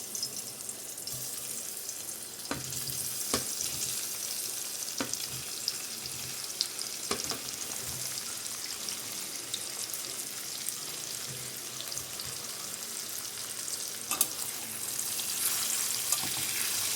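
Paneer pieces frying in hot oil make a dense, continuous sizzle and crackle, close and fairly loud, punctuated by occasional scraping clicks of stirring, with no voices.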